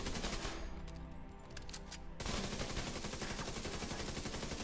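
Capacitor assault rifle firing in The Division 2, a dense continuous stream of rapid automatic shots with loud sustained crackle throughout, no voices.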